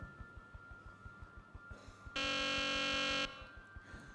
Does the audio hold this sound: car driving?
no